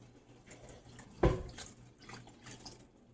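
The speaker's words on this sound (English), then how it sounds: "You'll also add your water." Water is poured into a cooking pot that already holds tomato sauce, giving one brief, loud splashing pour followed by softer sloshing and trickling, close by with no speech.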